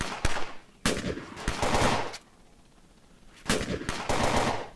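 Firearms blast in the Fort Zombie game, a zombie-survival shooter, as loud rapid bursts of automatic gunfire separated by a short pause.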